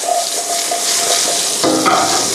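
Pork chop frying in a hot pan for pork steak, giving a loud, steady sizzle with crackling bursts throughout, heard alone without voices.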